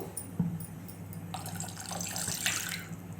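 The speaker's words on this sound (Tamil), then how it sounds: "ஒரு 1/2 கிளாஸ் தண்ணியை ஊற்றி" Half a glass of water pours into a vessel close by while making a drink, a steady splashing stream that swells partway through, with no talking.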